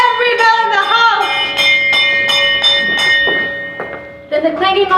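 An old bell rings with repeated metallic strikes and long ringing overtones, rising in a steady rhythm and staying loud and full, with no talk over it.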